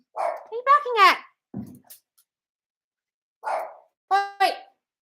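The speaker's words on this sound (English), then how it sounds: "Wait. What are you barking" Two short bursts of dog barking, a pair of yaps near the start and another pair after a pause, close by with a soft voice in between.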